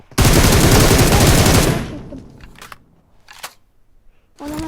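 Gunfire in PUBG Mobile on the Livik map: a loud, dense burst of rapid shots for about a second and a half, then scattered distant cracks and short bursts, with a voice briefly near the end.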